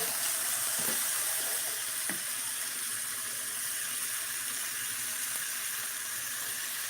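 Thick bacon frying in a skillet gives a steady, close sizzle and hiss with a few soft clinks and taps mixed in.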